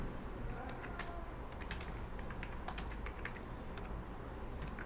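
Steady clicking of a computer keyboard being typed on, close and continuous over a low background hum, with no talking.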